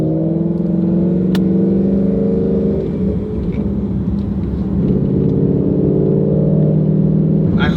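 Ford Mustang with a slipping clutch running steadily, a loud rumbling exhaust drone with a coarse, uneven engine note held close and continuous, pitch dipping briefly midway before settling again.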